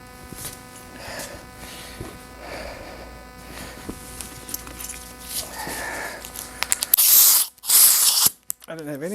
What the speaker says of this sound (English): let's go ahead and blow some air through that.